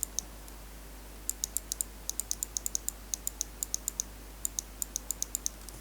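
Endgame Gear mechanical keyboard switches, the Zippies from the switch pack, are typed on in quick, irregular clusters of crisp, faint clicks over a quiet steady hum.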